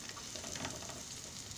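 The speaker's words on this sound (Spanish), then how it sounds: "Entonces vamos a saltearla para que la cebolla saque su sabor y el ajo." Onion and garlic sautéing over low heat in a pan, a steady close sizzle and crackle with light stirring scrapes, continuous throughout with no voices.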